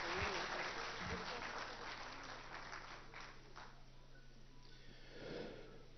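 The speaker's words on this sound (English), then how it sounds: "So please do once again give them a huge round of applause." Crowd applause for dancers in elaborate costumes at a roundtable event, steady faint clapping that carries through the whole few seconds without a clear break.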